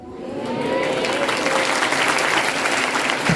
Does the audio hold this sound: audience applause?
yes